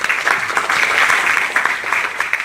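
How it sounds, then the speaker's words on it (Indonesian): An audience applauds a Miss Indonesia 2017 finalist named Sarah, producing a continuous dense rush of clapping, loud and steady from start to finish. "so Sarah boleh dikasihkan tepuk tangan dulu buat Sarah"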